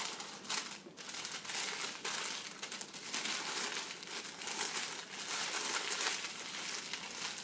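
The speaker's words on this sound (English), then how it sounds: "we're going to wrap up the cookie dough just like a present" Crinkling plastic wrap folded around a block of sugar cookie dough, a steady close rustle and crackle that runs without a break for several seconds.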